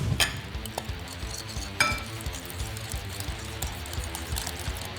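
Egg yolks, brown sugar and cayenne pepper are stirred together in a bowl, with a utensil clinking and scraping in a quick, irregular rhythm close by.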